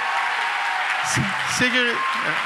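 An audience at a Quebec party general council applauds minister Lucie Charlebois with steady, dense clapping throughout, while voices cut in over it in the second half.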